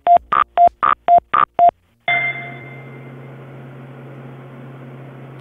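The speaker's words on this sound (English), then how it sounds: "let's try this phone number and see if there are any emergencies happening in the elevator" Six quick telephone keypad tones beep in a steady run as an elevator phone is dialled, then a short pause before a line opens into a steady low hum and hiss, loud and close.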